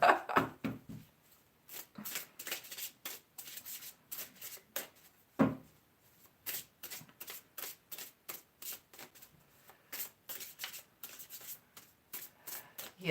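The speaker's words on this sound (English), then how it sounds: "I'm still shuffling." Steady, close tarot card shuffling: a long run of crisp, rhythmic riffles and taps repeating over and over with brief gaps.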